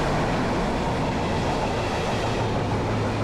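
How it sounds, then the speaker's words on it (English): Continuous loud rumble and rattle of a train rolling past a station platform in Poland, steady wheel noise filling the whole stretch with no voices. "I filmed trains coming and going"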